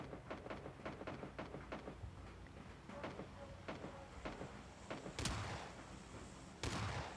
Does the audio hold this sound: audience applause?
no